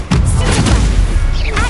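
An Incendio fire spell erupts in Hogwarts Legacy as a loud, full-bodied whooshing boom that stays dense and sustained throughout, with a brief rising tone near the end.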